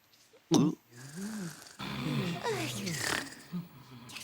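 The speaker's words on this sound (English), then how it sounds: "Who's that snoring?" A cartoonish snore rumbles, followed by a voice speaking with rising and falling intonation over soft background noise.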